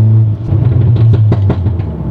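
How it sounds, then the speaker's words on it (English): A VW Golf R Mk7 idles with a loud low exhaust drone, broken by a quick run of sharp pops and crackles from the exhaust before it settles back to a rumble. "If you like pops, it's a car for you."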